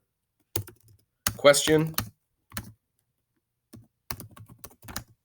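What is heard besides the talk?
typing on a computer keyboard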